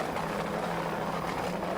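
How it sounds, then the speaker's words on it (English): A helicopter filming an offshore powerboat race off Fort Lauderdale gives a steady, loud rotor and engine drone with an even whir that holds throughout, with no voices. "Manny Rodriguez from Crescent Airways is our helicopter pilot, doing a fine job today"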